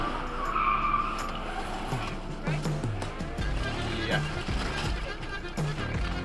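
A Honda SUV pulls out of a parking lot and is T-boned by a Nissan SUV, heard from a dashcam: tyres skid and screech with dull impact thuds, all under steady talking.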